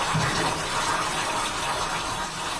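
Waterfall recording playing as steady, loud broadband rushing water, continuous and unbroken throughout with no voices.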